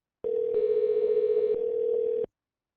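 A loud, steady telephone dial tone sounds alone while a call is being placed, beginning abruptly and cutting off sharply after about two seconds.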